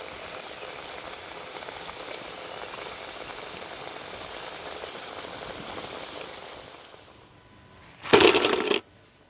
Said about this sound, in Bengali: সেকেন্ড ব্যাচটাও ঠিক একইভাবে আমি ভেজে নেব।